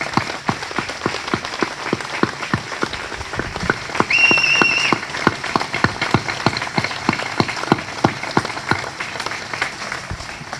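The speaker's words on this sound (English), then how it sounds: "join me in a round of applause in thanking these great Americans" An audience at a military change of command ceremony at an arsenal gives a steady round of applause, individual claps distinct and fairly close, with a brief whistle partway through.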